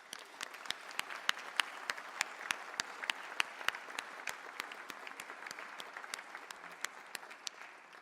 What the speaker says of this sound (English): Please now give them a round of applause.